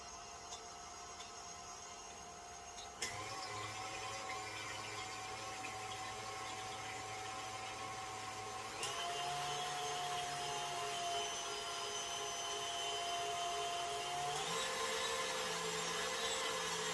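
Stand mixer fitted with a whisk attachment whipping heavy cream, a steady motor whir that steps up in speed twice, with the pitch rising at each change, running continuously with no talk.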